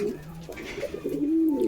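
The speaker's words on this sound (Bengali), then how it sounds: "বেশিরভাগ সব দেশি আছে, দেশি কবুতর।" Desi pigeons cooing close by, a short run of low throaty coos rising into a sustained warble, with faint speech in the background.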